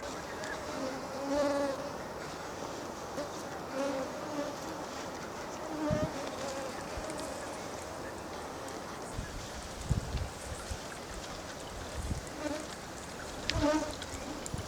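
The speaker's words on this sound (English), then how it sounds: "Mosquito time is a real disaster for deer." A swarm of mosquitoes fills the Russian northern tundra in summer reindeer-herding country, a continuous, dense buzzing whine with individual insects passing close now and then over a soft breeze.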